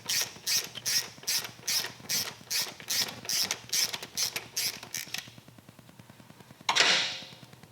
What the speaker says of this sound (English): we're just gonna remove the rear two bolts on the transmission bearing housing